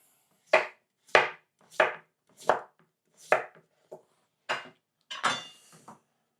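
A knife chops potato into medium-sized chunks on a cutting board, eight crisp, evenly spaced strikes about one every two-thirds of a second, close and clear with no talk over them.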